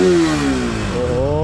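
A Bajaj Pulsar RS200 motorcycle with a BS4 engine revs loudly close by, its harmonic engine note rising and falling through one sustained throttle blip with a slight clattery edge.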